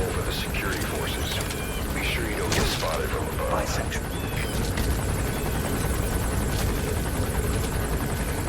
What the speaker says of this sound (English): Hopefully the chopper doesn't see me.